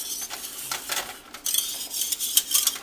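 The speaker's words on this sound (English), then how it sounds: "Just kind of bring your whisk up and make sure that there's no cheese" A whisk knocking and scraping inside a pot of broccoli cheddar cheese soup, giving quick metallic clinks and taps in short uneven bursts close up, with no talk.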